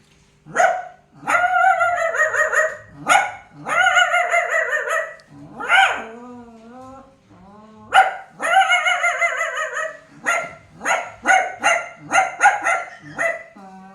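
Dogs barking in a Hindi-language comedy sketch: repeated loud, close barks in quick bursts and series, with brief pauses between volleys and some yelping, whining tones in the middle.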